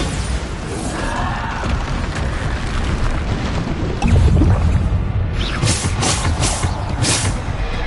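Bombarda explosive spell cast in a Hogwarts video game, a loud, dense blast with a deep rumbling burst midway, followed by crackling debris and scattered high crashes.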